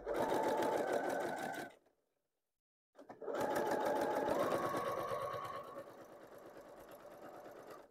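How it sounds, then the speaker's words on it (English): A sewing machine stitching a quilt seam, its fast rhythmic motor whir running loud and close, stopping for about a second, then starting again and continuing with slightly changing pitch. "And we're gonna sew it right there."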